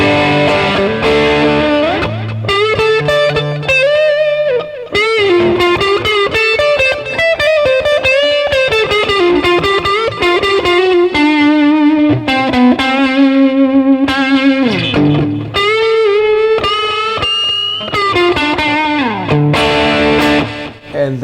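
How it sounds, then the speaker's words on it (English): Tease SBH-E Tele-style electric guitar played through its neck pickup with overdrive, a warm distorted tone with sustained notes and chords and bending lead lines, loud and continuous with no talking. "The neck with overdrive is, for me, really where this is at."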